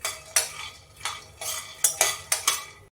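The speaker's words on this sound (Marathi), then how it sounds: "यामध्ये 1 वाटी शेंगदाणे आहेत ते घालून घेऊयात आणि हे शेंगदाणे आपण छान खरपूस" Peanuts dry-roasting in a hot kadhai, stirred with a spatula: a series of about eight crisp scraping rattles in an irregular rhythm, close and fairly quiet, with no talking.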